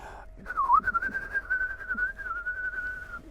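A person whistles a single sustained, wavering tone imitating a bird call, clear and close in a quiet setting.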